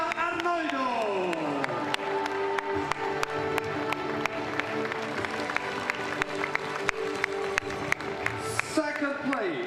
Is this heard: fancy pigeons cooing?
no